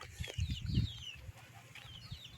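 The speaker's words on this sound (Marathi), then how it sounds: "त्या पहा मित्रांनो इकडे पहा कोंबड्या" Free-range village chickens cluck softly near a goat shed, with a few chirpy calls and low rustling, faint and some distance away.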